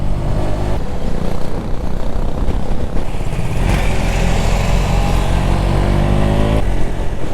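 A motorbike engine strains loudly under load in third gear on a ride from Nalgonda to Ladakh, with a continuous, close, rough drone and shifting pitch.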